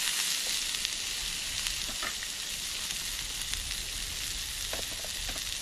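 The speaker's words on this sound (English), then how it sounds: "give it another wee stir." Onions frying and stirred in a pan on a Trangia camping stove: a steady close sizzle with scattered crackles and occasional scraping from stirring, continuous throughout.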